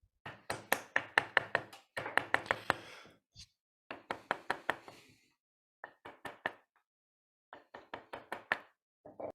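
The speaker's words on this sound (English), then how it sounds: "Chisel this off." A chisel is struck to knock a wooden glue block off a woodturned nut bowl, sharp close knocking taps in quick bursts of several blows separated by short pauses.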